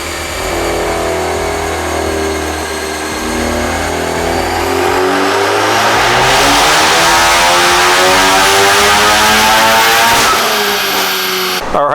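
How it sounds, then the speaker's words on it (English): A Honda on a dynamometer running a Hondata flex fuel base map revs steadily upward, its rising harmonics climbing through a full pull that ends in a sharp cutoff near the close. "car's set up on the dyno. Now we're going to do the first run with the pre-update Flex Fuel base"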